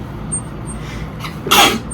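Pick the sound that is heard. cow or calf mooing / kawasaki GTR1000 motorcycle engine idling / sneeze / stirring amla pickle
sneeze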